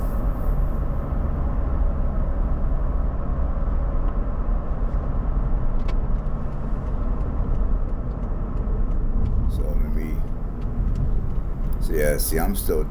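A car cruising through the outskirts of Moultrie, Georgia, its steady low road rumble and engine drone filling the whole stretch, with a few brief rattles and higher clicks near the end.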